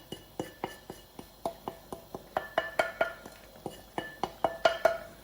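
Spoon stirring coconut into a chicken korma curry in a pan, producing a steady rhythm of close metallic clinks and scrapes against the pan, about two or three per second, growing slightly louder and brighter partway through.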